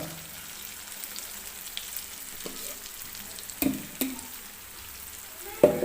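Urad dal and rice batter roti frying in plenty of oil on a pan over medium heat: a soft, continuous sizzle with a few sharp taps of a utensil, heard close, with no one speaking.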